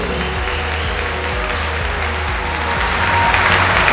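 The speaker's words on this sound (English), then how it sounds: "Applaudissements, s'il vous plaît" Steady applause from an audience at a teqball World Cup medal ceremony, greeting the Polish bronze medal winner; dense, continuous clapping at an even level with a low rumble beneath, swelling slightly toward the end.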